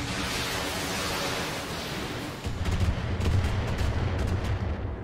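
Missile volley fired at an enemy Dragon mech in the BattleTech video game: a steady roaring noise that swells into a louder, crackling barrage of rapid impacts in the second half, dense and continuous with no talk over it.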